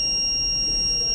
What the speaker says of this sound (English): if you press that, the buzzer will be off and it will be cleared